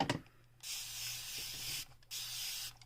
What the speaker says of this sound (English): I'm going to spray some water on there to make the leaves